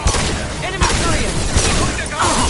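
Rifle gunfire in the Mass Effect 2 video game during combat: several loud, dense bursts of shots with booming impacts, filling the short stretch with near continuous firing.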